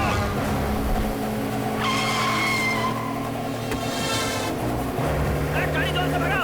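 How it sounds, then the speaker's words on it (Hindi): A car speeds through a chase in a 2020 Hindi-dubbed action film, its engine roaring continuously while tires squeal and skid in long screeches. Loud music and shouting voices run underneath. "गाड़ी जोर से भगा।"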